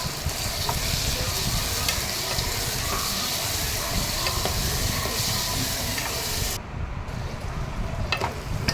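Tomatoes with turmeric fry in a pan with a loud, continuous sizzle and scraping spoon strokes, ending in a few sharper clicks as the stirring goes on; no speech.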